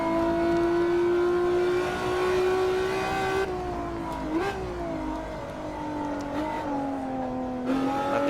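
A Ferrari F50 engine in Assetto Corsa snarls at high revs, rising and dipping in pitch as the throttle is worked, loud and continuous with a brief upshift-like wobble partway through.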